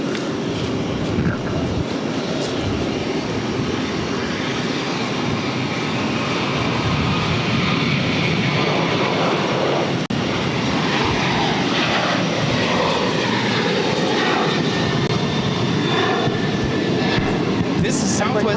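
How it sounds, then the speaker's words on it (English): A Southwest Airlines Boeing 737-800 taking off from Boston Logan, a loud steady jet engine roar holding throughout at close range, with a voice speaking over it. "6465 taking off to Baltimore on the 737-800."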